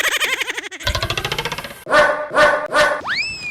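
A dog gives a string of close, loud barks and yips in a comic village skit, the calls coming in quick bursts, then three fuller barks and a rising whine at the end.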